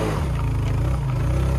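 A motorbike engine drones steadily and loudly at close range as it pulls along a mountain road near Ramite, a low, continuous rumble without clear shifts.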